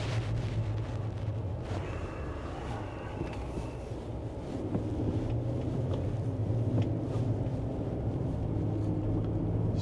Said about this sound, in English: It's kind of cold, so I got the heat on.